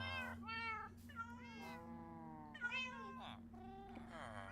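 Several Minecraft cats standing near a lightning rod meow repeatedly, a string of clear, high, drawn-out mews close up, one after another with brief gaps.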